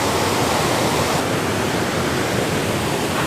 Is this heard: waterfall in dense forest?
yes